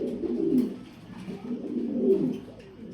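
A pigeon kept in a small enclosure coos close by, two soft, low, throaty phrases in succession, alone with no talk.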